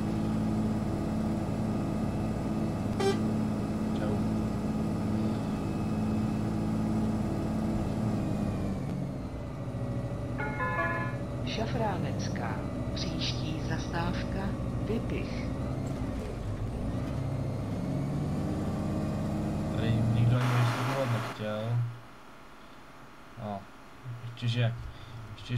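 A diesel engine roars loud and steady on an Irisbus Citelis 18m articulated city bus in the OMSI 2 driving simulator, with someone talking over it; the note drops and shifts midway, then air hisses and it quiets near the end.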